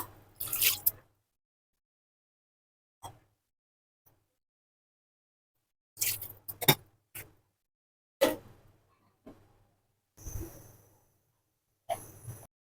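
Water being added to a pot of mashed, cooking lentils for dal, heard as a few separate wet squishing pours and splashes with short silences between them, close and moderately loud.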